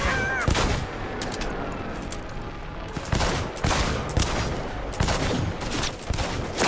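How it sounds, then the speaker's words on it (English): Gunfire in Cyberpunk 2077, dense clusters of loud shots arriving in bursts with brief lulls between, close and heavy over a constant background of combat noise. "They're opening fire!"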